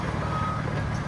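A construction truck's reversing alarm sounds as a brief, steady electronic tone over low background rumble.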